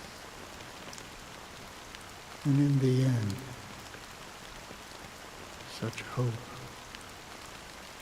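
Steady rain in the video game Honkai Star Rail hisses evenly throughout at moderate level, while a voice speaks briefly over it twice.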